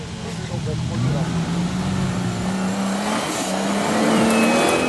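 A 4x4 off-road vehicle climbs a competition obstacle at the Maxxis National 4x4 Challenge 2011 in Rustenburg, its engine revving and droning continuously, rising in pitch, under a commentator's talk.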